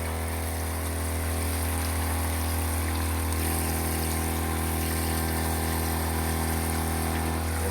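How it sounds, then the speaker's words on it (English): A Joolca Hottap water pressure pump running in a camper, giving a steady, continuous motor hum with a constant low drone throughout and no speech. "It's just a pressure pump."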